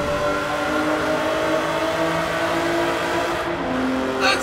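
Alfa Romeo Stelvio Quadrifoglio in the Forza Horizon racing game, engine droning steadily at close range with a sharp exhaust crackle popping near the end.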